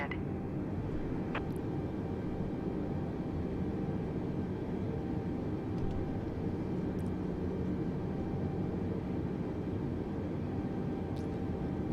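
Airbus A310 jet engines idling in Microsoft Flight Simulator 2020 at Detroit before pushback, a steady broadband rumble and whine running throughout with no clear change in level.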